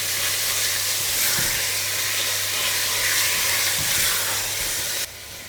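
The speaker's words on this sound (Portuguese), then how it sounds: "vamos adicionar a carne picada e vamos deixar fritar bem de ambos os lados" Minced meat frying in a pan with onion, a dense, loud, continuous sizzle and hiss close by, with occasional faint stirring knocks, no talking.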